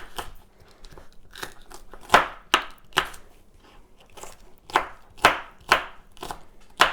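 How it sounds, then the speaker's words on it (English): A knife chops food on a cutting board in a string of crisp, irregular thuds, some louder than others, heard close and alone with quiet pauses in between. "So I'm just going to chop these up."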